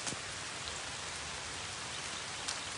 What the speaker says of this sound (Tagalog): Wala na, basang-basa na ako ng ulan.